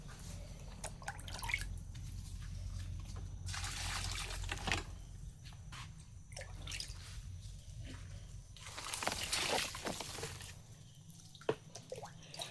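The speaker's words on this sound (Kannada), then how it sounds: "ಥರ ಸ್ವಲ್ಪ ಎಲ್ಲ ಗಿಡಗಳಿಗೂ ಹಾಕ್ಕೊಂಡು ಬರ್ತೇನೆ" Homemade liquid fertilizer for jasmine plants poured onto the plants, giving soft dripping and trickling with two longer splashing pours, no talk over it.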